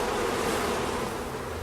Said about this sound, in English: Their wing beats fan the hive to keep it cool and ventilated.